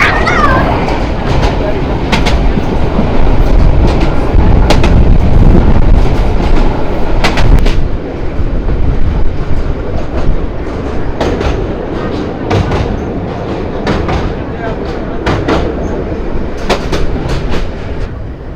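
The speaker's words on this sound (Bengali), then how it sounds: "তার মধ্যে ট্রেন ছেড়ে দিচ্ছে" The Sagorika Express local train runs fast through Chandpur district, a loud, steady roar of wheels and carriages punctuated by repeated sharp clickety-clack bursts, with voices faintly present at times.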